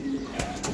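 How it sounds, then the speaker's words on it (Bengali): Black-necked Giribaz high-flying pigeons coo in a short, soft burst close by, with faint rustling and background noise around the call. "কালো গলা কবুতর তো খুবই সুন্দর"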